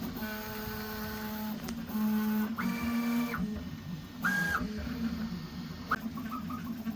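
Prusa XL 3D printer at work after switching to a second filament spool, its stepper motors whining in short tonal bursts and chirps of changing pitch, soft and nearby in a quiet room.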